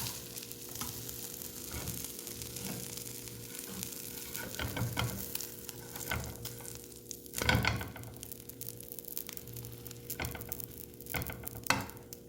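A tuna toasted sandwich cooks in a hot pan, giving a steady close sizzle with occasional louder bursts of scraping and shifting as it is turned and pressed.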